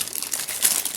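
A plastic bag crinkles steadily while someone unpacks a collection of 3x3 puzzle cubes, with the rustling close and continuous throughout.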